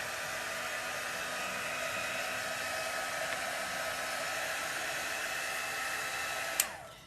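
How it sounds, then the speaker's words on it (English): A heat gun blows steadily over wet paint on a lighthouse craft piece, giving a loud, continuous whirring hiss of fan and hot air that runs for several seconds before it is abruptly switched off near the end. No one talks. "I'm going to hit this with a heat gun"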